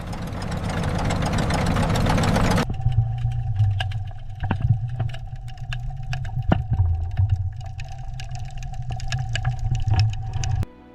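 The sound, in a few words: Kaiten torpedo two-stroke piston engine running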